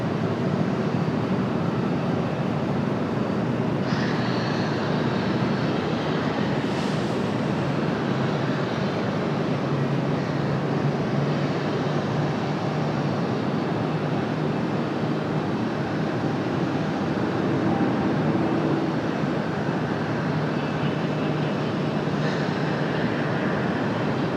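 An Aer Lingus airliner touches down at Raleigh-Durham airport, heard as a steady, loud roar of engine and air noise that holds evenly for about twenty-four seconds with no voices.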